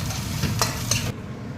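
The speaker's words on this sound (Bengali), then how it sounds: "আদা রসুনটা ভালো করে ভাজবো।" Ginger and garlic frying in a pan as they are stirred, a dense close sizzle with a couple of scraping strokes before it quiets abruptly.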